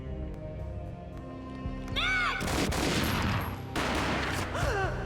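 Gunfire from the Max Payne video game on PS2: a loud broadband burst at about two seconds leads into dense, sustained shooting, likely several shots with a brief lull, and a voice briefly audible among the blasts.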